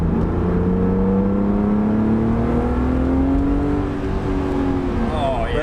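A BMW Alpina Roadster S, a Z4-based car, drones steadily while driving, its engine note rising slowly in pitch and holding loud and close throughout.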